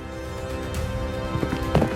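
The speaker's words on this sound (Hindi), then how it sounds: "वो अपने घोड़े पर सवार होकर हवा से बातें करता दौड़ा" Cartoon horse galloping at speed through a forest, a quick clip-clop of hooves set beneath a continuous musical score, with the hoofbeats clustering in a brief burst near the end.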